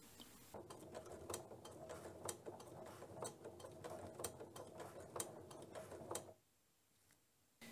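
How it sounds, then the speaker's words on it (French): A sewing machine with a walking foot topstitches faux leather at a steady, rapid mechanical clatter for about six seconds, then stops abruptly, leaving near silence. "pour faire une jolie surpiqûre sur le simili, j'ai mis mon pied à double entraînement"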